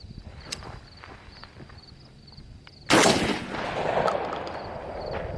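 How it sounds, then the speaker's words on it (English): A single loud crack from a Remington 770 bolt-action hunting rifle chambered in .30-06, fired outdoors, with a long rolling echo trailing off after the shot amid faint background birdsong. "I'm gonna try a double shot this time."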